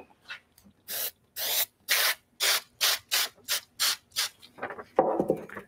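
Spray adhesive hisses onto the back of a paper heart sheet in about ten short, evenly spaced bursts, close and crisp, with no talking.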